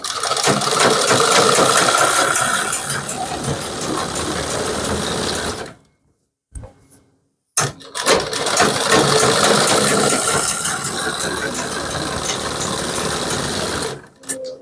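Domestic sewing machine stitching a kurti seam, a loud continuous mechanical whir running for several seconds, stopping briefly with a few clicks, then starting again and running steadily.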